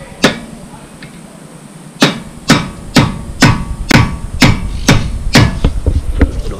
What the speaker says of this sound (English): and just whack it with the rubber mallet.